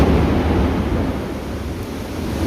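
Thunder rumbles through heavy monsoon rain beside a busy highway. A deep, continuous roar fills the space with steady rain hiss over it, loud and unbroken, with no talking.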